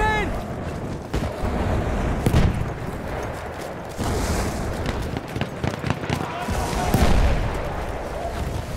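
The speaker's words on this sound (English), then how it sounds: "Throwing a grenade!" Battlefield 1 multiplayer combat: sporadic gunshots crack and a grenade blast bursts amid a noisy battlefield din, with a voice calling out over the action.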